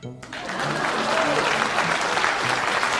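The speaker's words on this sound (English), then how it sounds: "Please clap." An audience at a political rally breaks into applause after a brief moment, with steady, loud clapping and crowd noise that carries on to the end.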